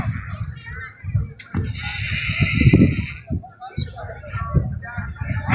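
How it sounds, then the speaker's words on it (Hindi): Horses at a neza bazi tent-pegging contest give a loud, shrill neigh around the middle, amid a crowd and people talking, with hoofbeats and shouts scattered around it. "घोड़े जनाब आ रहे हैं चार घोड़े"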